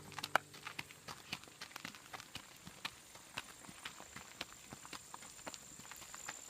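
A Morgan horse's hooves clip-clop in a steady marching rhythm while trail driving, crisp and fairly close, with no talk over them.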